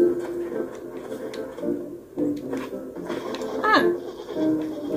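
Goat bleats from the video game Blanc, one wavering call rising clearly near the end over a busy background of game music and effects.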